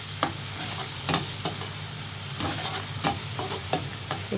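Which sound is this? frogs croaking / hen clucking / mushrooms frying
mushrooms frying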